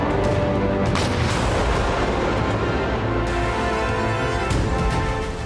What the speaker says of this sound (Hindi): रोबोटाइन में इस क्लस्टर बम के प्रहार के बाद एक साथ कई धमाके हुए